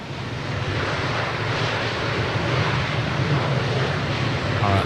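Engines of an Airbus A330-900neo roar with thrust reverser deployed in a flight simulator, a dense, steady, loud rushing blast that holds throughout without a break.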